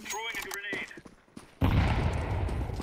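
Gunfire in Counter-Strike 2 starts as a dense, loud burst of shots after players talk, then rattles on steadily to the end.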